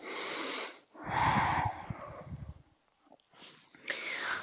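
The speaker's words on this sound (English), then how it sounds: "Take a few breaths." Deep, slow breaths from a person hanging in an aerial yoga pose with arms wrapped around the trapeze rig, three separate breathy exhales with short pauses between, close and fairly quiet.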